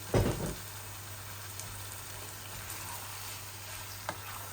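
Boneless chicken pieces frying in oil, a burst of sizzle and spatter at the start settling into a steady, quiet crackle with a few faint pops.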